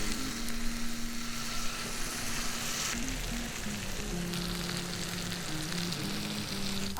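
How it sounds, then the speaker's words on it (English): Fish tikka pieces frying in hot oil and butter in a pan, a continuous close sizzle that holds steady, with a light background hum. "To the hot oil, we'll add some butter. After you add the butter and the oil, now what do? Just keep on adding these pieces onto the pan."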